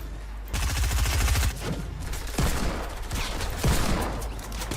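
Desert Eagle pistol shots in the online shooter Zula, several sharp loud reports spaced out over a rumble of other gunfire.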